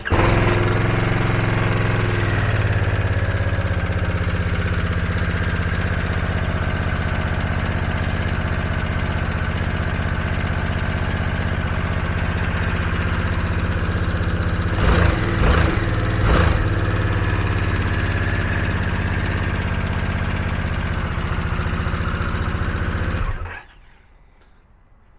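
A Harley-Davidson Sportster S motorcycle engine runs at a steady, loud idle for over twenty seconds, with a few brief blips around the middle, before it cuts off abruptly near the end.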